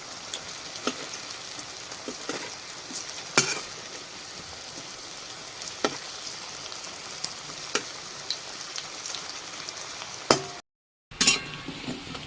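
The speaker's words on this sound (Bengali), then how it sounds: "এবারে বড়াগুলো সব একবার দিয়ে দেবো সব এবার উল্টো পাল্টে দেবো সবগুলো বড়াগুলো" Peanut fritters sizzling in hot oil, a steady crackling fry with occasional sharp pops and scrapes as the pieces are turned, close and unbroken apart from a brief silent gap near the end.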